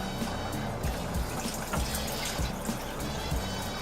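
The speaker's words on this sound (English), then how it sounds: "I'm just going to go ahead and tip the rest of the water out." Water tipped out of a Wonder Wash manual washer into a stand-up shower, a steady splashing and gurgling pour with a few louder sloshes, close by and continuous throughout with no voices.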